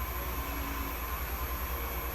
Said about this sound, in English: So, got the lathe running up at about